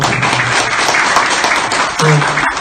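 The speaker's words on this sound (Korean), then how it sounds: "정말 재밌고 확실한 강의를 해주신 우리 최선석 대표님 다시 한번 큰 박수 부탁드립니다." A Korean political party lecture audience gives a speaker a big round of applause, steady dense clapping throughout with a voice briefly speaking over it.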